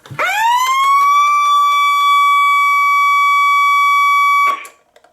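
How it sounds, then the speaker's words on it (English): A weather radio's alert siren test: a loud, steady electronic tone that rises quickly to pitch, holds for about four seconds, then cuts off abruptly with a small click. "now you know what the siren sounds like"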